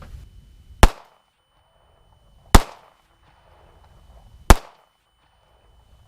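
Three sharp, loud handgun shots firing factory carry ammunition, spaced about two seconds apart outdoors, each a crisp crack with a short ringing tail and near silence between.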